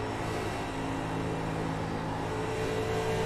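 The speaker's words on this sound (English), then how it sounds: "You'll listen to him off of turn 2 as he's having to lift just a little bit as he gets on the gas in the middle." A race car at Dover Downs drones steadily with a continuous engine hum, close and even, easing slightly off the throttle and then back on the gas without a sharp rev.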